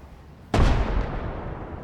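A sudden, heavy explosion booms out in a war video game at a lumber mill with tanks and a BMP nearby, hitting hard at once and then trailing into a long rumbling decay.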